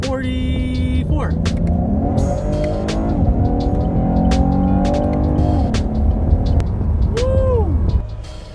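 A small car pulls hard in second gear from about 44, the engine note climbing steadily under load for several seconds, loud and close, before easing off with a brief whistle-like tone near the end.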